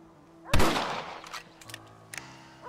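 A single loud rifle shot in the Red Dead Redemption western video game cracks near the start, its boom fading over a couple of seconds with faint ambient sounds after.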